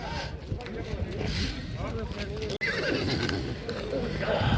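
Horses at the Karabulak livestock market near Shymkent whinny amid a busy, noisy market din, with people talking throughout and steady crowd and animal bustle close by.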